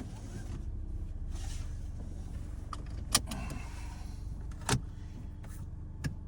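Following an ignition coil replacement, a car engine idles in a low, steady rumble, close by and moderately quiet, with a few sharp clicks and clunks on top and no speech.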